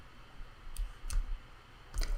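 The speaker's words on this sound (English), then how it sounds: "Let's click off the layer" Computer mouse clicks while working in animation software, three soft, sparse clicks close to the microphone against a quiet room hum.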